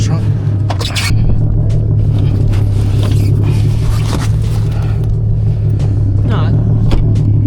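Infiniti G37 stuck in snow, its engine droning loudly and steadily with a low rumble, mixed with scraping and crunching noises and people talking over it.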